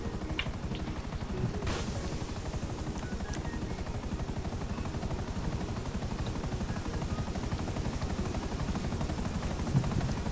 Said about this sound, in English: She's gonna hit the helicopter blades.